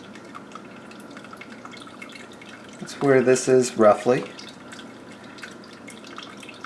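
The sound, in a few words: hot sparge water poured over steeping grain for oatmeal stout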